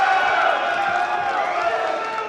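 Crowd noise at a professional Major League Table Tennis match, a steady murmuring roar of spectators with faint claps and cheers, a commentator's voice running over it.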